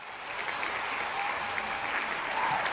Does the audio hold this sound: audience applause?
yes